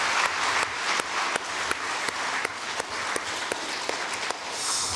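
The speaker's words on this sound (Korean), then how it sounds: "우리 힘차게 하나님 앞에 영광의 박수" A church congregation applauds steadily during a Sunday worship service, a dense wash of many hands clapping together for several seconds at moderate volume.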